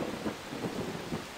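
A full storm in Far Cry 3 sends steady rain hissing over a low rolling rumble of thunder, dense and continuous with no voices.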